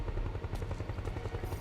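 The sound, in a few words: helicopter in video game Metal Gear Solid 4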